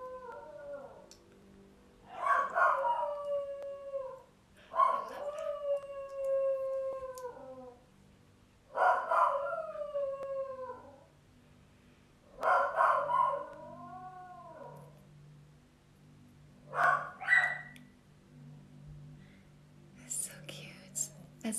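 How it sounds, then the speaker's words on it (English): Husky dog howling in a series of long, rising and falling howls, about six separate calls spaced a few seconds apart, fairly clear and close over a quiet background hum, with a yip at the end. "There's a dog."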